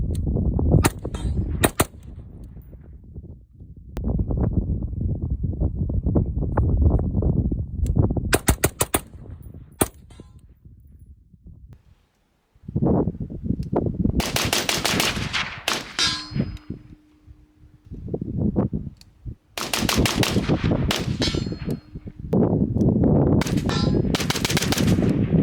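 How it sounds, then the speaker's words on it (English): Rifle fitted with a Primary Arms PLXc compact 1-8x scope fired at steel targets about 50 yards away, sharp repeated shots each followed by a ringing metallic clang, loud and close, in bursts with short pauses. "We were shooting at about 50 yards with this thing on steel targets"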